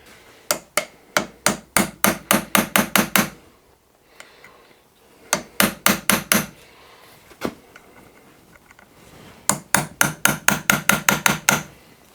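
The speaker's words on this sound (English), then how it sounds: "just put a couple of little pop marks in here, just to stop that valve from unscrewing" A steam oil pump valve is struck with a hammer and punch to make pop marks, heard as three close bursts of rapid, sharp metallic taps, each about a dozen blows long, separated by quieter pauses.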